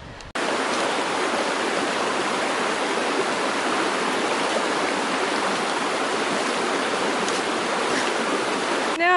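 A river rushing past a river crossing on a North Island ranges thru-hike, a steady broadband roar of flowing water that sounds close and continuous for several seconds, with no voices.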